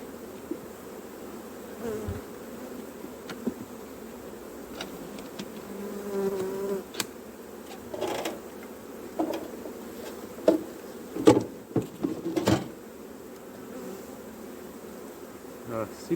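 Honeybees buzz steadily in front of a beehive during a hive inspection, a continuous close insect drone with brief handling knocks and rustles.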